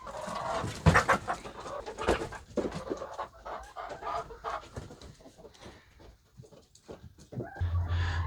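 Chickens clucking in short irregular bursts at close range, with some panting and shuffling noises mixed in and a low rumble near the end, as a dog is led out to feed them.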